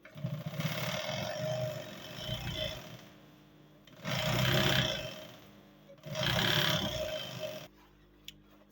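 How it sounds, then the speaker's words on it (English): Sewing machine top stitching the side seam of cargo pants, a moderately loud whirring that runs in three separate bursts with quieter handling noise between them. "the next thing I will be doing is to top stitch it"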